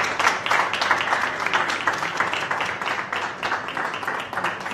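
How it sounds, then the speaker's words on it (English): Summit audience giving a round of applause to welcome a guest, a dense, lively wash of close clapping that holds steady throughout. "If we can extend a round of applause."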